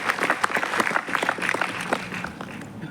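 Audience applause welcomes a speaker on stage at a film institute event, lively and fairly loud with distinct individual claps in a dense crowd patter that eases slightly toward the end.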